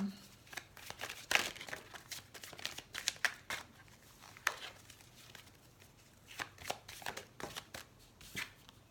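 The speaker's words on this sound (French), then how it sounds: "Je vais voir s'il y a une autre carte." Tarot cards handled and shuffled while another card is drawn from the deck, giving close, irregular papery flicks and slaps with soft rustling between them.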